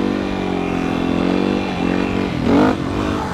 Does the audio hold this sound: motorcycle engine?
yes